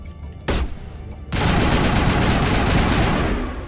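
Sustained gunfire from a firefight in Mass Effect Legendary Edition: a single shot, then dense continuous automatic fire that stays loud and close for several seconds before easing slightly.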